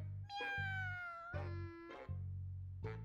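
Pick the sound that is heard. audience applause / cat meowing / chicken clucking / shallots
cat meowing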